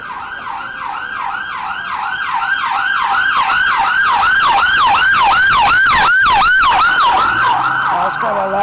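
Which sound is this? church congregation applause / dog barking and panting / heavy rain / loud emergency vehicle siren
loud emergency vehicle siren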